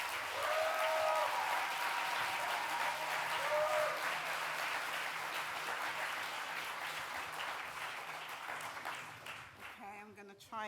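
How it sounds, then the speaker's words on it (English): Audience applause for a keynote speaker at an Indigenous Liberation Day 2022 event: dense steady clapping from a crowd, fading slightly toward the end, with a few voices briefly mixed in. "A warm and big applause for Esther"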